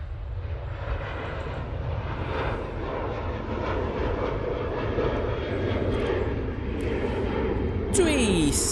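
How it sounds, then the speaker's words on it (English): A TUI Boeing 737-800 takes off at Manchester Airport. Its engines give a sustained, broad roar that builds slowly and holds steady throughout, with a voice heard faintly in the background. "TUI 737-800 parting, and that's another one off to Turin."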